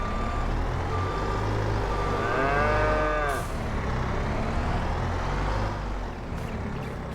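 Cattle moo in Farming Simulator 22 over a steady farm-machinery drone, with a long, clear low moo in the middle of the clip and a truck's reversing beep partly heard underneath.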